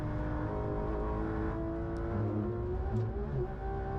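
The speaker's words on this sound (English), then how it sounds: "So for me, it looks like that this Porsche that Misha is driving in this video is probably one of the fastest street legal cars he drove." A Porsche Manthey GT3 RS engine revs and accelerates loudly on the Nordschleife, its tone climbing and holding close and steady with no talking.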